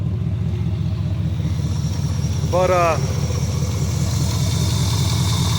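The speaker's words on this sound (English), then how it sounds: "You can definitely hear an exhaust leak underneath there." An idling Chevrolet El Camino with a 305 engine and an exhaust leak underneath gives a steady, low, pulsing rumble throughout, and someone speaks briefly over it.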